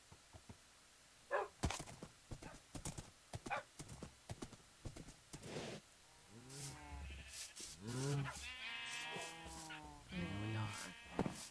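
Minecraft horses and foals make game sounds: crisp clip-clop hoof steps in a loose series, then several rising, wavering whinnies and neighs close by, fairly quiet overall.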